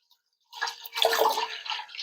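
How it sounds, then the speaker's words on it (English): Whole milk poured from a gallon jug into a big stainless Dutch oven, a steady liquid splash beginning after a brief silence and continuing about a second and a half. "I pour it into a big stainless Dutch oven that I have."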